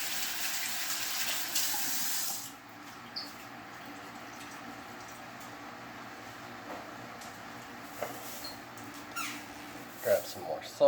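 Water gushes steadily from a kitchen faucet for a couple of seconds while hands are washed, then cuts off, leaving quiet room tone with a few faint clinks.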